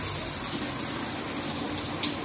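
A hotel bathtub's Delta shower head runs at full pressure, giving a steady, close hiss of spraying water that stays constant throughout with no talking.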